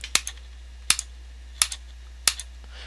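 Computer mouse clicks at a steady measured pace to fire the rifle in Blacklight Retribution, four sharp close clicks each followed by a softer release tick.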